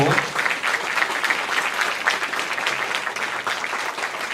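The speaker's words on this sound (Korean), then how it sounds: "여러분들 한번 감사의 박수로 우리 리더들 한 학기 동안 또" Church audience applauding their student group leaders after a sermon, a steady wash of many hands clapping throughout, dense and sustained at close range with no gaps.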